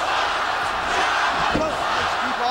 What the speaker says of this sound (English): this crowd is all over Chavo Guerrero early on with a Chavo sucks chance